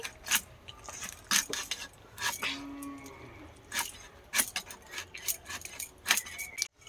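A knife chops the head off a large, two-kilogram ripe rohu fish in a kitchen, giving a quick series of sharp, close cuts and clicks in an irregular rhythm.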